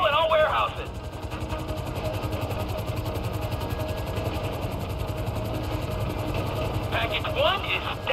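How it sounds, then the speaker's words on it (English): Two helicopters in Grand Theft Auto V drone with a steady low rotor thump throughout, close and loud, while radio-style voices and brief game tones sit over the start and end. "There's two choppers coming toward my train."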